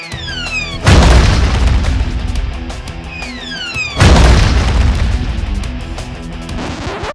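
Two loud, deep booms of crude artillery fire in an animated scene, each a sudden blast followed by a long rumbling decay. Whistling debris sounds come before them, with no talk.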